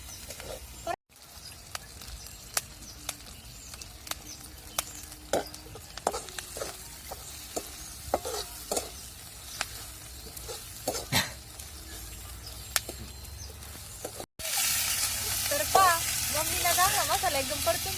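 Pumpkin pieces sizzle in masala as a home cook stirs the vegetable dish in a pan, a steady frying hiss broken by scattered scraping clicks, with a sharper, louder burst of sizzle near the end.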